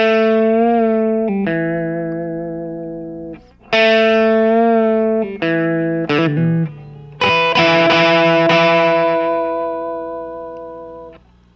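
Electric guitar plays a blues lick through distortion and effects: sustained, buzzing notes with a bend and release, quick pull-offs and picked runs, loud and close, without talking.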